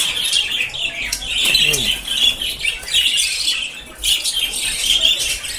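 Budgerigar chick chirping among high, busy parakeet chatter in a colorful aviary, a steady twittering with brief louder bursts, while someone talks softly over it.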